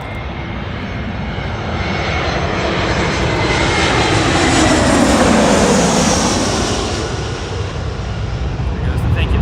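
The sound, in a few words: Airbus A321 with thank you livery taking off at LAX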